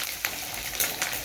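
Garlic and onion frying in a pan, a steady close sizzle with a few sharp spikes of spitting oil or stirring, no talk.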